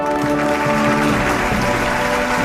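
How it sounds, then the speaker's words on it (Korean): Applause from a ceremony audience as an honored guest enters, steady dense clapping throughout with sustained tones of background music underneath. "큰 감사의 박수로 참 어머님을 맞이 주시기 바랍니다"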